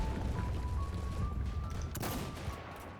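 Sniper rifle gunfire in a first-person shooter video game, a few sharp shots against a steady, busy wash of game sound, with one loud crack standing out near the end.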